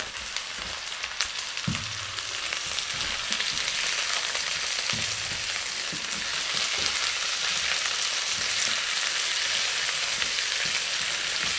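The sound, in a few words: squid frying with sardines in a pan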